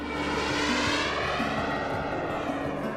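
RC jet plane engines at the 2020 Jet Jam, a gathering of about sixty large, detailed model jets: a loud, steady turbine roar with a whining tone, close and continuous throughout, with no talk.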